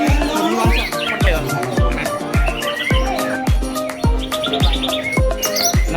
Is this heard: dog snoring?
no